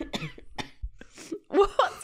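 Several sharp coughs in quick succession, close and fairly loud, with a short pause before a final pair of harsher, throaty coughs.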